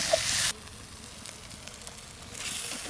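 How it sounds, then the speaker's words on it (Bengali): Duck meat drops into a hot pan already holding ash gourd, and a bright, steady sizzle flares loudly for half a second, eases to a low crackle, then rises again near the end. "কুমড়ো দিয়েও ভালো করে কষিয়ে নিলাম এবার মাংসটা দিয়ে দিলাম"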